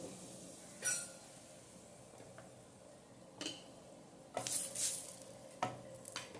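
Okra stir-frying with turmeric and chili powder in a pan, a faint steady sizzle broken by occasional scrapes and clinks of stirring, quiet and close.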